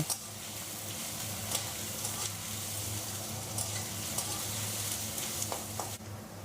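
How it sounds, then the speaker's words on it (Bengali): A medium-sized potato sizzling in hot oil in a pan, a soft, steady crackle of frying that runs throughout, with no talking. "তেল গরম হয়ে গেছে, আলু দিয়ে দেব।"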